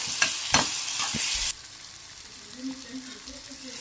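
Drumstick leaves tipped into a pan of softened onions, with a bright, busy sizzle and scraping stirs at first that drop to a quieter, steady frying crackle with a low bubbling underneath.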